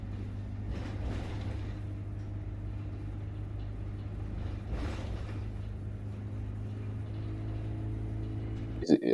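A bus engine drones in a low steady hum as the gearbox moves up toward fifth gear, with two brief swells where the note shifts, heard from inside beneath faint talking before a clunk at the end.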